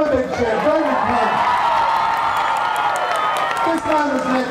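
A sports awards crowd cheers and whoops for a newly named champion, a dense roar with shouts and scattered clapping sustained throughout, fairly loud and close, with voices mixed into the din.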